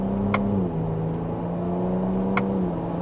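A 2025 Ford Ranger Raptor pickup engine pulls steadily in a low, even drone with a deep exhaust note in sport exhaust mode, climbing slightly in pitch as it accelerates from second gear; no talking.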